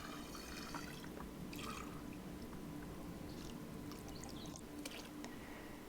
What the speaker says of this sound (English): I'm just pouring as much of it as I can into the pillowcase.